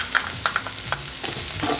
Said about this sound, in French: On va faire revenir les oignons et l'ail quelques minutes.